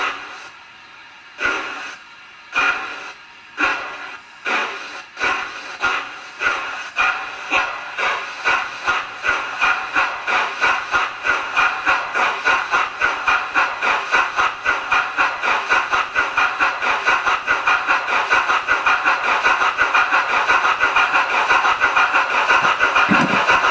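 Hornby Silver Fox model steam locomotive chuffing in sound mode at three chuffs per revolution, starting with slow, widely spaced puffs that speed up into a steady, rapid hissing beat, loud and close with no talking.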